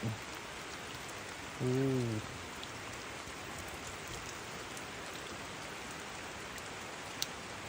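Steady, soft rainfall hisses evenly throughout, with a brief tonal sound early on and no talking.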